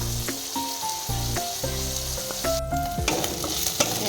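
Leta polu, silkworm pupae, fry on a low gas flame, with a steady close sizzle and crackle broken by intermittent scraping stirs and clinking against the pan.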